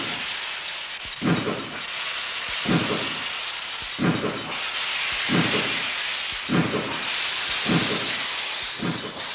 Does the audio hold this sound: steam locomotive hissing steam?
yes